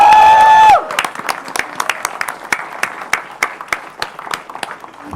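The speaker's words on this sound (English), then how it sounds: "Let's give a huge round of applause." Applause at a chess world championship event breaks out after a brief tone, a crowd clapping steadily with sharp individual claps standing out, loud and close, fading slightly toward the end.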